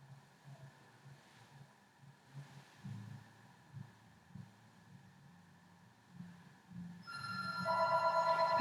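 A telephone rings indoors, its bright electronic trill starting suddenly near the end and growing louder, after a stretch of soft thumps and low background noise.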